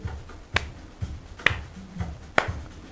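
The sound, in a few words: hand claps or snaps imitating a snare drum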